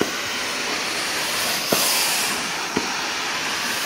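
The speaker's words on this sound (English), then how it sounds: "well, the steam really gets into the camera." A steam carpet cleaner hisses steadily and loudly while lifting restaurant grease from rubber-backed carpet. The broad hiss is continuous, with two brief clunks partway through.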